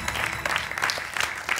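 A game show studio audience claps steadily in a dense, even burst of applause, close and continuous for under two seconds.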